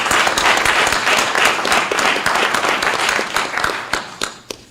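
Audience applause fills a security threat briefing hall on China in Los Angeles, a steady dense clapping crowd sustained for several seconds before tapering off at the end, with no talk over it.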